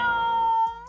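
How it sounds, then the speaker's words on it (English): An angry cat in the Roblox video game lets out one loud, sustained meow that holds steady and then fades near the end. "it's an angry cat"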